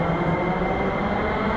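Steady rumbling of a Sofia metro train carrying passengers from the airport, a continuous low roar of wheels and motor close around the listener with no break.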